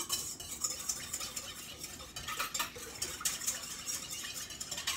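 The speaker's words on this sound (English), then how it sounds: "So I'm going to stir that up in here" Instant yeast mixture being stirred in a bowl for low carb cinnamon rolls, a steady scraping and swishing that continues for the whole stretch with light clinks, fairly quiet and close, with no talking.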